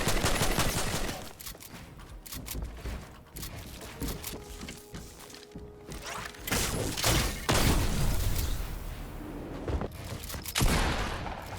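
Gunfire in the video game Fortnite comes in rapid, loud bursts and sustained volleys, with a few heavier booms mixed into the shooting and no talk over it.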